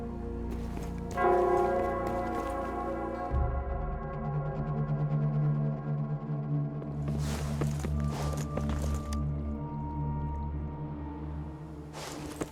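A square bell in the video game Wuthering Waves tolls over a sustained low tonal drone, with clanging strikes and shuffling footsteps mid-scene, moderately loud and echoing.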